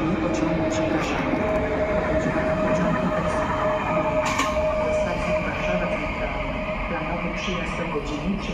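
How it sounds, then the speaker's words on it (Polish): A train at a station platform in the Kujawsko-Pomorskie region, a loud continuous rumble of railcars with clattering and faint squeals and a steady tone, while a voice talks over it. "Pociąg kończy bieg."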